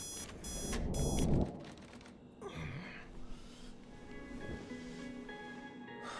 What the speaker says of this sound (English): Okay, an alarm.